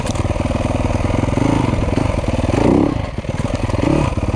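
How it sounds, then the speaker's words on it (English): A Yamaha YZ250F dirt bike fitted for woods riding revs steadily up close, its engine note rising and falling in bursts of throttle with mechanical clatter, alone without voices. "bike revs a lot cleaner"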